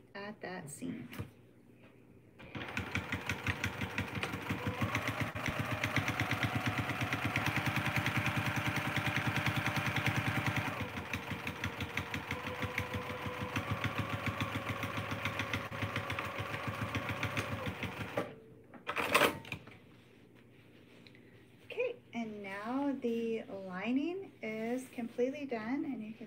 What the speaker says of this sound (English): start sewing at the top and stop right at that seam